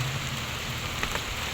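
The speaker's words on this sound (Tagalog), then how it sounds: "Kami po ay inabot na ng ulan po dito" Steady rain pours down outdoors, a dense, even hiss of drops hitting surfaces close by, with a couple of slightly louder splashes and no voices.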